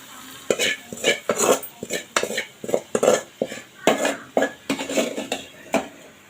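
Utensils clatter against a pot while tempering is added to a bottle gourd and beef curry, a rapid series of sharp metallic clinks and scrapes close up, with a faint sizzle underneath.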